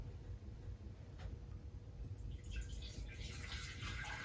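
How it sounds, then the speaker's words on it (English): Warm water is poured into a big jar, a soft steady splash and trickle that grows brighter toward the end, quiet over a low room hum. "you're going to pour warm water into the big jar"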